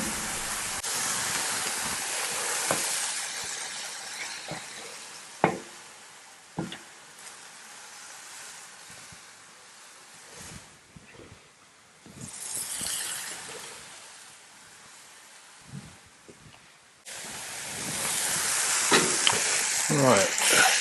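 Smash burger patties caramelizing on one side on a hot griddle, a steady broadband sizzle with occasional sharp scrapes and pops, swelling louder toward the end.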